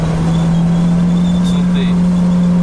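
Citroën C4 Lounge car accelerating in third gear, a steady, loud engine drone with a strong constant hum throughout, heard from inside the cabin.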